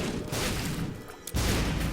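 Explosions in the video game The Binding of Isaac: Afterbirth, a dense run of booming blasts that fills most of two seconds, breaks off briefly, then bursts back loud and sustained.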